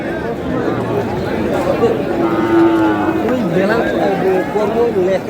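Crowded outdoor livestock market din in Gaibandha, Bangladesh, with constant chatter and people talking, cows lowing now and then among the noise.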